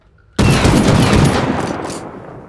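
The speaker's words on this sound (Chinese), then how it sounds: "刚刚又开枪。" A loud burst of close gunfire in the video game Rust erupts suddenly after near silence, a rapid volley that booms and then slowly rings out.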